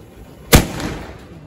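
A firecracker bursts at a Diwali evening celebration in a village, one sharp loud bang followed by a short fading echo and rumble, with no talk.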